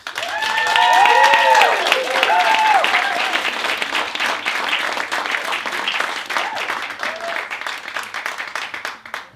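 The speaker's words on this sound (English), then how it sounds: "Please, a big round of applause for Henriette Ivanans." An audience at a storytelling event applauds loudly, steady clapping filling the room, with a few cheers and whoops early on before the clapping gradually eases.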